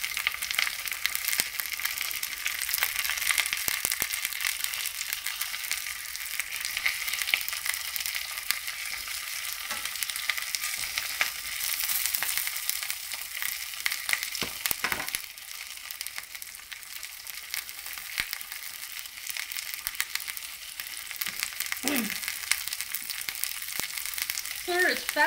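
Frozen Beyond Meat Beast Burger patties sizzle in a pan over medium heat, a loud, continuous, close frying hiss with scattered crackles and faint speech late in the clip.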